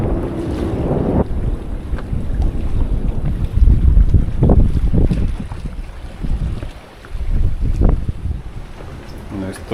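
Strong wind buffets the microphone aboard a solo sailboat on the open sea in the Bahamas, with rushing gusts, water noise and big waves slapping the hull, while someone speaks briefly.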